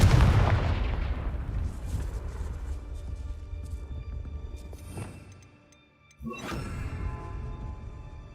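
A fiery Confringo spell blast in Hogwarts Legacy opens with a loud, rumbling boom that slowly fades, then a second sharp burst hits later with a crackling tail, all with no voices.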